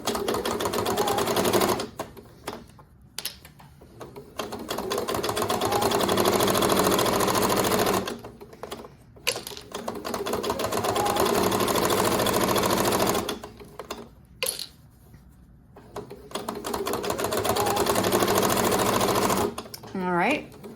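A sewing machine stitches a 1/4 inch seam across a reversible drawstring bag, running in several long, steady bursts separated by brief pauses.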